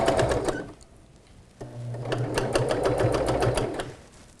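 A home sewing machine runs steadily, stitching a seam for a fabric pillow, its rapid needle ticks forming an even mechanical rhythm close by after a brief pause.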